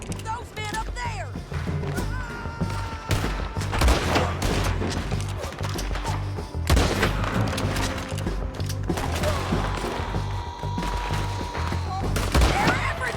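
Sustained video-game gunfire in a firefight: rapid volleys of shots and impacts crackle and boom continuously, loud and busy, with a voice shouting under the din.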